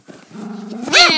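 A single loud, close dog bark rises at the end of a brief stretch of low voiced sound.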